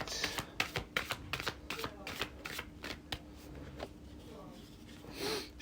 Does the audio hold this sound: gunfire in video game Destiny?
no